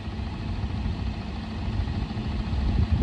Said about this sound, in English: Idling in neutral.